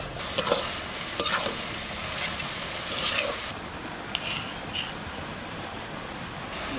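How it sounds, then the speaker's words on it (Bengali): Fresh garden cabbage, spiced hot and fried with potatoes, sizzles steadily in a pan as a spatula stirs and scrapes it, with a few sharp clinks over a constant hiss and no voices. "ঝাল ঝাল রঙিন কপি ভাজা।"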